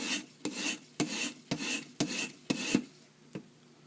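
Rhythmic rasping strokes of a Benchmade 940 knife edge being ground on a steep approach grind, about seven even back-and-forth passes at half-second intervals, close and clear with no talk.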